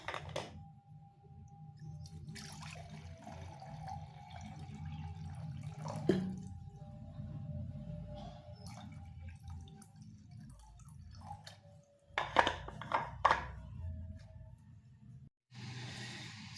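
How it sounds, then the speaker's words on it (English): Water running into an electric kettle at a tea-brewing setup, a quiet steady trickle with a few brief louder splashes and clinks near the end. "I'll fill up my electric kettle with some"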